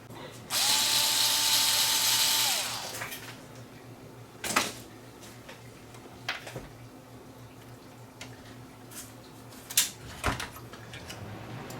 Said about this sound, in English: So I've got to pull a couple screws off the bottom.